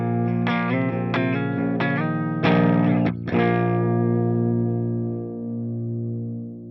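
Electric guitar with a clean, lightly driven tone through a 4x12 Bogner Uber cab with T75 speakers plays a few picked chords that ring out and slowly fade, with a slight shimmering effect.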